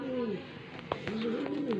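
Pigeon cooing close by, several soft rolling coos in a rhythmic series, with a faint voice murmuring in the background; the birds are newly acquired tippler pigeons.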